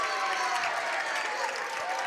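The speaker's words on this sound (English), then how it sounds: "And Summertown fans with their sarcastic clap for a foul call." Basketball fans at a girls' high school game clap sarcastically after a foul call, a broad wash of crowd clapping and murmur filling the gym at steady volume.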